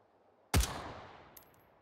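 A single loud gunshot rings out in the VR shooting game H3VR, a sharp crack followed by a long echoing decay, with faint clicks afterward.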